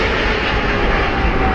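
A Boeing 747 jet airliner roars loudly and steadily in a high climb-out after takeoff, a dense continuous engine rumble filling the whole short stretch with no voices over it.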